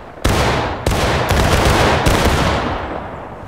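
Musket volley in the Civil War game War of Rights, several loud cracking discharges in quick succession from a battle line, each rolling into a lingering smoky rumble that fades out.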